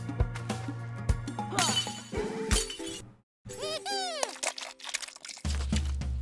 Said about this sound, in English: Now go back and break the glass.